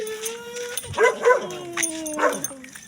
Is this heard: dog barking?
yes